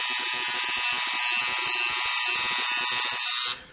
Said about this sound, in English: With a 4-needle shader, again, it will allow you to get into the tight areas and still get that airbrush effect on the tattoo